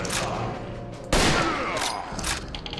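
Gunfire in the horror video game Real Age of Horror: a sudden loud blast cuts in midway over a rumbling, noisy game background, followed by lingering reverberant echoes, with no talk.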